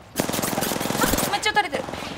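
Rapid automatic gunfire from the battle royale video game Apex Legends rattles in a fast burst, with a voice talking over the shots.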